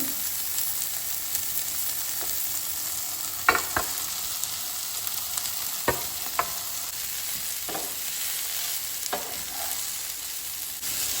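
Soya chunks fry with softened tomatoes in a pan, giving a continuous close sizzle broken by occasional sharp scrapes and clicks of a spoon stirring.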